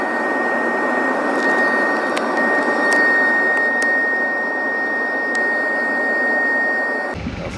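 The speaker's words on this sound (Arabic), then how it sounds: "هنا بقى خلاص الطيارة اتحركت" Airplane engines whine and roar as the plane starts moving, a loud steady jet drone with a high tonal whine over it, ending abruptly.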